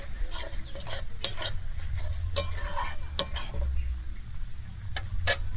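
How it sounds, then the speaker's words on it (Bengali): Garam masala powder is stirred into spice paste frying for a vegetarian jackfruit and potato curry, giving a continuous close sizzle broken by several scraping spoon strokes against the pan. "আমি গুঁড়ো গরম মশলাটা দিয়ে আবারও খুব ভালোভাবে এখানে মিশিয়ে নেবো"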